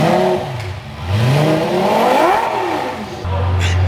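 A twin-turbo Lamborghini engine revs up and falls back, rising and falling in pitch through a couple of throttle blips before settling to a low idle, close and fairly loud with a little background chatter.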